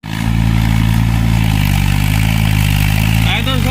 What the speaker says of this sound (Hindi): ज़मीन में गाइस ट्रैक्टर जुताई कर रहा है